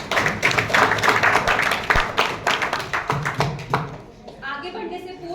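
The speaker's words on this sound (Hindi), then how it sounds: "इन सभी बच्चों के लिए जोरदार तालियां हो जाए" Dense applause rises from an audience for children at a youth mock parliament, a sustained, crowded clapping that fades after about four seconds as a voice starts speaking.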